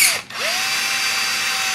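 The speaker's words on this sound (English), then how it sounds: "just gently drill them out" A power drill with a number 27 bit spins up close and loud to enlarge pilot holes in a Piper Supercub Widebody airframe, stopping briefly before winding back up to a steady high whine.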